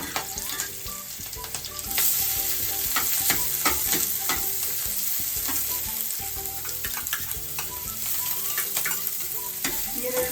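Chopped onions and curry leaves fry loudly in hot oil, a dense crackling sizzle broken by repeated scraping strokes of a spoon stirring the pan, steady and close.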